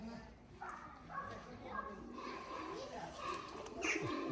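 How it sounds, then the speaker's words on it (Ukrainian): Pigeons or doves coo softly in a bird yard beside a lake where storks, pelicans and geese are kept, with faint chirps and distant voices in the background. "пташиний двір з озером, лелеки, пелікани. Є навіть гуси"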